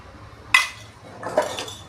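A metal pan set down on a stove before tempering with oil for a roasted ridge gourd chutney, heard as two close metallic clanks about a second apart, with no talking.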